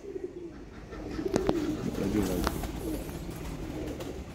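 Rare Sialkoti pigeons coo softly in low, rolling calls, fairly close, while someone talks over them.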